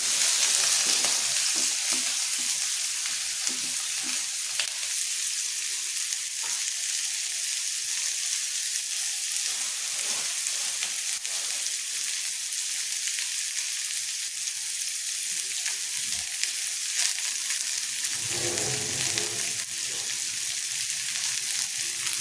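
Continuous hiss and crackle of finely chopped onions frying in hot oil, steady throughout with occasional stirring clatter and a low bump near the end.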